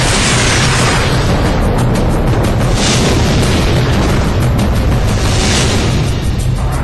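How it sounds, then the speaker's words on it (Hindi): Missiles and bombs fired from fighter planes strike targets in a loud, dense barrage of booming explosions that rumble continuously and heavily throughout, with no voices. "आसमान से बरसती इन मिसाइलों और बमों ने धरती पर कैसा विध्वंस मचा रखा है,"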